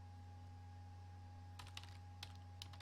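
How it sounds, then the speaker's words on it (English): Light, quick keystrokes on a computer keyboard, a short irregular flurry of soft clicks over a steady electrical hum, with no talking. "I forgot to talk while I was typing again"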